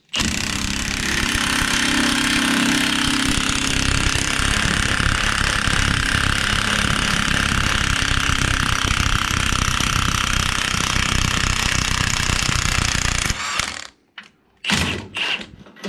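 A Milwaukee power tool hammers out a wheel bearing on a Polaris RZR, a loud, continuous rattling impact burst lasting about thirteen seconds before cutting off, followed by a few short clanks and bumps.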